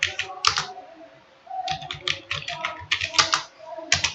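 Bursts of computer keyboard keystrokes as a file name is typed at a terminal, clattering in quick irregular runs with short pauses between groups of keys, close and moderately loud.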